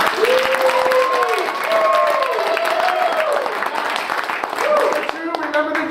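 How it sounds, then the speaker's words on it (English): Loud, sustained applause from an audience at a chamber of commerce celebration party in Alabama, dense clapping filling the whole stretch while a voice talks over it. "clap like champions"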